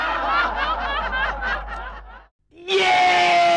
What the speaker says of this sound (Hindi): ये चीखने की आवाज किसकी आई?